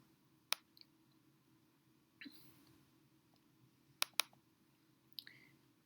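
A few quiet, crisp computer mouse clicks come in small scattered bursts, some in quick pairs, over a faint low hum.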